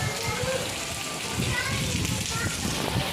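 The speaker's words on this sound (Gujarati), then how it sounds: "જોરદારનો પોરબંદરમાં વરસાદ ચાલુ છે." Heavy rain falling in Porbandar, Gujarat, where people stand under umbrellas, a constant loud hiss of rain on surfaces filling the whole moment, with voices mixed in beneath it.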